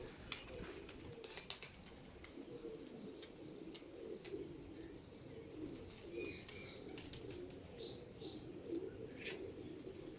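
A flock of pigeons flies overhead, with faint wingbeats and scattered coos and chirps over a steady outdoor background. The sound stays distant and low throughout, with no one talking.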